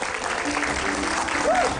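A studio audience at an Indonesian comedy talk show bursts into dense, steady applause, loud and close, with a voice briefly cutting through near the end.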